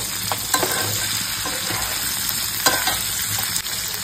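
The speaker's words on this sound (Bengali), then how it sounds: "এটা ভাজা হচ্ছে, হালকা একটুখানি ভাজা হোক" Onion, capsicum and chilli stir-fry loudly in a pan, a bright continuous sizzle broken by several sharp scraping stirs, close and without talk.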